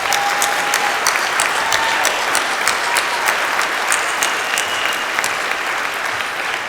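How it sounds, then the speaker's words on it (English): An audience at the Garden Grove State of the City 2024 event applauds the mayor, dense sustained clapping from a large crowd throughout, fairly loud and steady, tapering slightly toward the end. "Let's give Mayor another round of applause."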